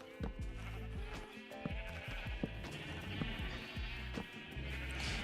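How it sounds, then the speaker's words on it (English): Sheep in a farming video game bleat several times in quick succession, with quiet, overlapping, wavering calls over low background game sounds. "Okay, I hear the sheep eating grass"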